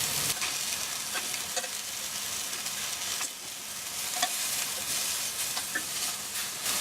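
Turkey meatballs sizzle steadily in a hot frying pan, with a continuous hiss of frying and occasional scraping clicks as they are stirred and turned.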